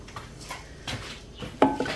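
A spoon clinks and scrapes against a container while a tea tree oil mixture is stirred in a home kitchen, giving a few short irregular clatters, with a sharper knock near the end.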